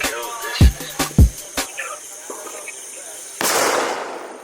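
Air gundu firecrackers set off at a Vishu celebration crack in a few sharp, punchy bangs, followed by a louder, spreading burst of noise, with voices talking around them.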